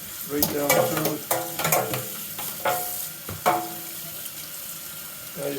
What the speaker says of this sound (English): run some warm water through here